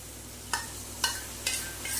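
A spice paste of ground cumin, coriander, chilli, turmeric and salt, mixed with cooked-down tomato, is stirred in a pan: four crisp scraping strokes about half a second apart over a faint, low sizzle.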